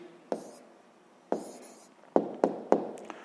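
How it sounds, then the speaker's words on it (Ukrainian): A pen writes down the answer to a sixth-grade math exercise on paper, several short scratchy strokes and taps heard close and quiet, spaced irregularly with pauses between them. "Пишемо відповідь."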